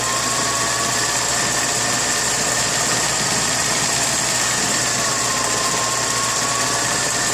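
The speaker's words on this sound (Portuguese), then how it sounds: "é só vocês passar a costura várias vezes no mesmo local onde vocês estão fazendo o bordado" A Singer 20U sewing machine stitches embroidery with a steady, loud, continuous mechanical whir that stays even and unbroken throughout, with no voices.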